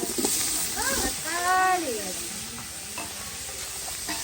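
Paste and tomato sauté in a pan with a continuous close sizzle and stirring scrapes, while a voice speaks briefly over it.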